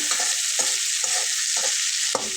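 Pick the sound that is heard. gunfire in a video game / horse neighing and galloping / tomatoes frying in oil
tomatoes frying in oil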